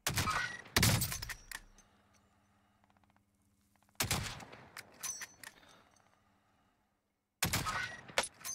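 Sniper rifle shots ring out in Warzone, ghillie-suit sniping with a thermal scope: a few loud sharp cracks separated by quiet gaps, each trailing into echoing decay and scattered thumps, with no talk.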